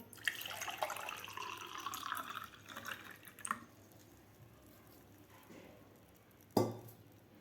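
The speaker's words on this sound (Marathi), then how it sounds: "यामध्ये आपल्याला घालायचं आहे माठातलं थंडगार पाणी घालायचं आहे" Cold water from a clay pot pours into a glass for a few seconds, gurgling and splashing, then goes quiet before a single sharp clink near the end.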